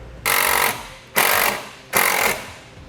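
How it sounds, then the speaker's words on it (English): A power driver with a 5/16 bit tightens a screw into a drilled hole while fitting custom side steps on a vehicle, giving three loud, close bursts of harsh whirring about half a second each, separated by short pauses. "put it on a 5/16 driver, and we will go into the hole that we drilled. We can fully tighten this screw."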